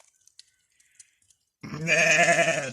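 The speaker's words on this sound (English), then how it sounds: "Another sheep wandering by." A sheep at the smallest house in Wales gives one loud, close, wavering bleat after a few faint clicks.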